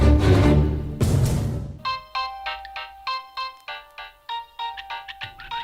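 Loud rustling and handling noise, then a ringback tone heard through a phone while dialling someone, a regular pulsing pattern of short bright bursts repeating steadily, close and alone.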